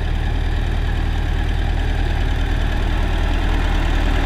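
A YuMZ-6 tractor diesel idles steadily nearby, a dense, even rumble with a fast low knock and no change in pace; no talking is heard.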